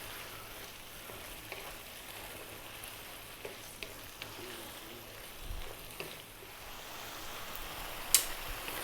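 Prawns frying in curry masala in a pan for a restaurant-style prawn curry give a steady, soft sizzle. Occasional stirring clicks and scrapes sound over it, with no talking.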